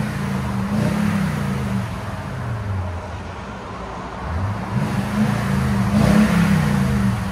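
A stock-exhaust 2021 Toyota Tundra TRD with its 5.7L V8 revs in two loud, deep surges with a settling idle between, heard alone and close.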